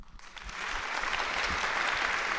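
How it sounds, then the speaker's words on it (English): An audience gives sustained applause after a keynote talk at an author event, the dense clapping rising quickly and holding steady, moderately distant, with no talk over it. "Please join me in another round of applause for Donna Seaman and Tommy Orange"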